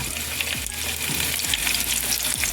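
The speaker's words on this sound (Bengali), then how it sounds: "তেলের মধ্যে আমি দেব কিছুটা পেঁয়াজ কুচি" Chopped onions sizzle in two tablespoons of hot oil in a pan, a steady close bright crackle with occasional stirring scrapes, no voices.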